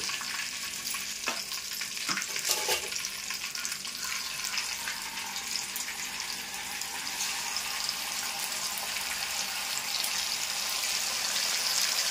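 Chicken pieces frying in a pan for capsicum chicken curry, a loud, continuous close sizzle with a few scraping stirs near the start, no voices.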